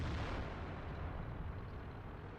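A tank cannon shot in World of Tanks, with a broad, rumbling blast that fills the short clip and tails off slowly, heard alone without talk.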